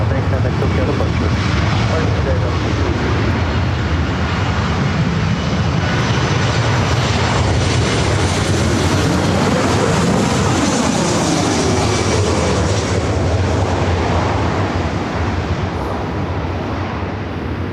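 A departing airliner at LAX airport roars steadily and loudly for the whole stretch, a broad continuous jet-engine rumble with a slowly shifting tone as the plane climbs away.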